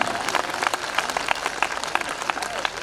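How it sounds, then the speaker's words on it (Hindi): Audience applause at a Hindi comedy poetry gathering, a steady patter of many hands clapping at moderate loudness for the whole stretch, with no voices over it. "तालियां कम हैं आपकी।"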